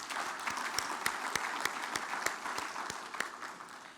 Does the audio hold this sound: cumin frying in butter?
no